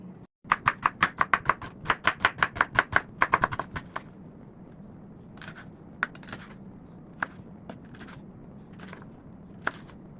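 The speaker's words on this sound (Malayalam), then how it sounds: "വെളുത്തുള്ളി ഇഞ്ചി ചോപ്പ് ചെയ്ത് വെച്ചിട്ടുണ്ട്" A knife chops garlic and ginger on a board in a quick, even run of sharp taps for a few seconds, then a handful of scattered single knocks, close and clear.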